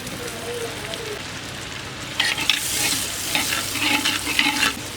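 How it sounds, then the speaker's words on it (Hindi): Chopped onions and tomatoes fry in oil with garlic in a pot for beef makhni handi, a low sizzle that turns into louder scraping and stirring crackles partway through. "अब इनकी अच्छी तरह टमाटर और प्याज जो हैं इनकी भुनाई करेंगे।"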